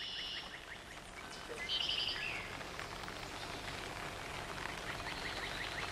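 Rain falls steadily in a Romanesque Benedictine monastery cloister in Catalonia, a soft, even patter through the whole stretch, with a few faint bird chirps above it.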